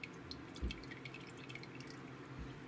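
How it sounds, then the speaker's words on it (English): Heavy syrup from canned pears drains into a saucepan, a quiet steady dripping and trickling of thick liquid up close, with a couple of soft heavier plops. "drain all that heavy syrup into this saucepan that I have here"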